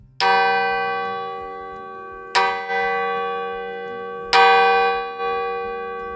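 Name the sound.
old church bell at Lodbjerg lighthouse being struck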